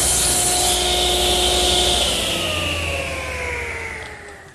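A power saw cuts a 3/4 inch MDO plywood panel to length against a fence, giving a loud, close, continuous whine and rasp of the blade in wood that slowly winds down at the end.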